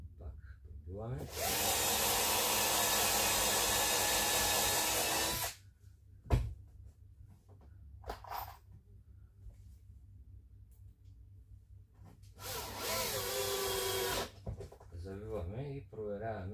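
A power drill bores into a wood floor in a long, steady burst and then a second shorter one, with a sharp knock and quiet handling sounds between them.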